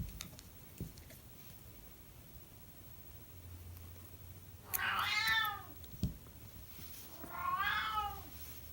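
A cat meows twice, fairly close and clear, with several seconds of quiet room hiss between the two drawn-out calls.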